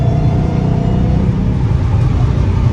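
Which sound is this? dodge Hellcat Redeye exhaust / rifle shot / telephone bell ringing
dodge Hellcat Redeye exhaust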